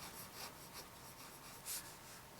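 A Parker 61 fountain pen from around 1969 scratching across paper: faint, close nib strokes with small rhythmic swells and one brief brighter scrape, over a quiet background.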